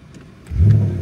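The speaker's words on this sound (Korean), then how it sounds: "배기 사운드가 진짜 장난이 아니네요" A Bentley Continental's engine catches and revs, opening with a deep, loud exhaust roar after a short quiet moment and then settling into a strong, rumbling idle close by.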